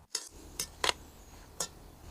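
Marinated onions being stirred with spices in a bowl, heard as a few sharp, close clinks of a utensil against the dish, spaced irregularly in a quiet room.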